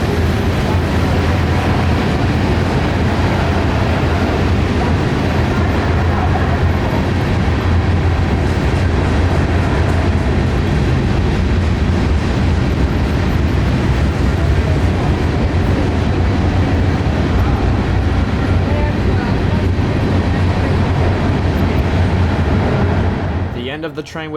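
A loud, continuous rumble of a passing freight train with rattling, clattering wagons close by, holding steady before fading abruptly at the end.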